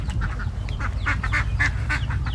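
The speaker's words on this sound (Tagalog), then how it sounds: "Dito yung mga pato ko." Several domestic ducks in a backyard pen behind a house quack close by in quick, repeated bursts over a steady low rumble.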